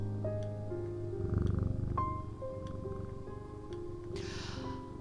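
Cat purring while being petted in the occult shop video game Strange Antiquities, a steady low rumble running under game music tones and chimes, with no talk.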